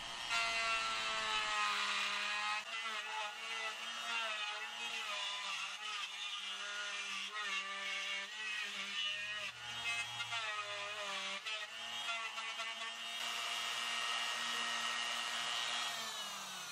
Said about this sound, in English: I will then go back to my router and finalize the pickup cavity.